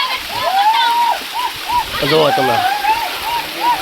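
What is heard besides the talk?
rainwater flowing down steps on Girnar hill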